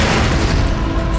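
Gunfire in the first-person shooter The Darkness, a loud, dense stretch of booming shots that runs continuously through the brief moment with no gaps and no talk.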